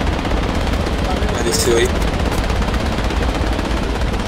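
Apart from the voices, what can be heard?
gunfire in the video game Project Reality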